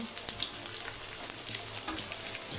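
Onion sautéing in a pan with cashews and green chillies added, a steady close sizzle with soft scattered crackles and light stirring scrapes throughout.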